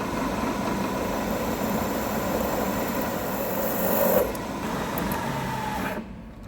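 A center drill spotting a hole location on a large lathe gives a steady, close mechanical grinding whir with a rasping cutting texture, slightly louder near the end before dropping off as the cut stops.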